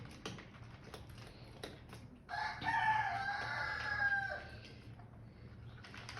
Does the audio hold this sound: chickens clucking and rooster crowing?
yes